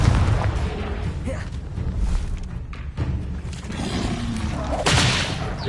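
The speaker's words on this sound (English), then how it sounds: "Confringo!" Confringo fire spell blasts in Hogwarts Legacy burst as repeated booming thuds and crackling explosions, loud and close, over a rumbling game backdrop.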